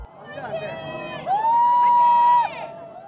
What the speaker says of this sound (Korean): 산 능선을 넘어 커다란 화염을 내뿜으며 누리호가 힘차게 솟아오르자 시민들의 함성과 박수가 일제히 터져나옵니다.